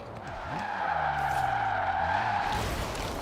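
A car drifts in a racing video game, its tires skidding in one loud, continuous squeal that swells and holds for about three seconds, with the engine droning underneath.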